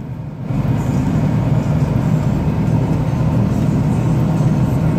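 The engine of a little mini truck runs steadily at a constant idle, a loud, close, even rumble with no speech.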